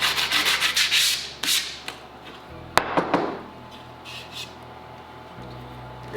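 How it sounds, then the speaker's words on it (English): Hand sanding of freshly cut wood with 100 grit sandpaper in a garage workshop, heard as several close, loud rubbing strokes in quick bursts, then quieter intermittent scraping under a steady low hum. "Just gonna sand it slightly real quick. Just gonna take 100 grit"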